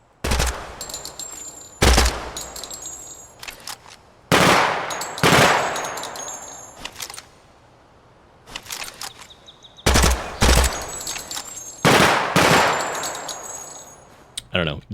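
5.56 rifle firing in the video game Project Silverfish, loud close bursts of rapid automatic fire separated by short pauses, each burst leaving a ringing echo tail, with no talk over it.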